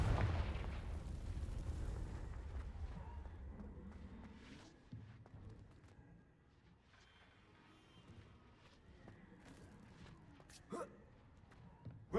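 A fire spell explodes in Hogwarts Legacy with a loud, booming blast that decays into a rumbling tail, followed by quieter scattered pops and game effects.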